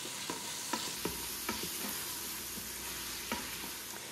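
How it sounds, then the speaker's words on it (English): Minced red onion sizzling in a pan while being stirred, a continuous hiss broken by several soft scraping strokes of the spoon, close and with no talking. "I'm going to stir this until the onion becomes soft and translucent."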